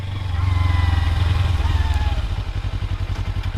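A Kawasaki Ninja 300 motorcycle engine rumbles close by with a throbbing, pulsing beat that loosens and slows toward the end as the bike comes to a stop.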